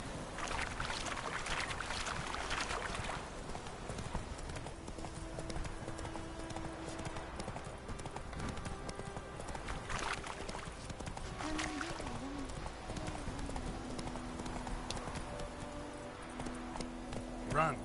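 Roach the horse galloping in The Witcher 3, rhythmic hoof clip-clop running steadily through the scene under spoken dialogue and game sounds.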